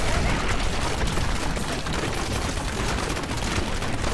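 Dense, continuous barrage of overlapping blasts and crackling detonations in the Diablo 3 action game during hardcore Demon Hunter combat, loud and unbroken throughout.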